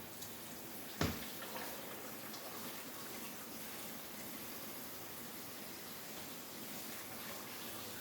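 Water runs steadily into a pot of candied yams on the stovetop, a continuous close pouring rush after a brief clunk at the start.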